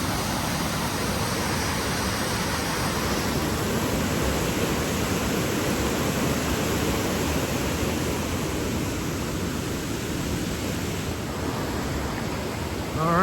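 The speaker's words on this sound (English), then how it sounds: "we're coming up to the waterfalls" A waterfall pours steadily somewhere beyond leafy trees, making a dense, even roar of rushing water that holds constant throughout with no voices.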